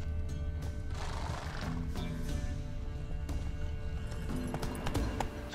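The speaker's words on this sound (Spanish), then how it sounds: "Son caballos." Horses in the video game The Witcher 3 whinny and neigh repeatedly over steady clip-clop hoofbeats beside a river, with layered game ambience continuing underneath.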